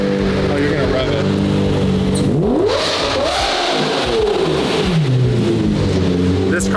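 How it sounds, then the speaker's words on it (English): A Dodge Viper's engine revs hard indoors on a showroom-style floor, with loud sweeping rises and falls in pitch over several seconds while a person talks over it. "Oh, you're gonna rev it."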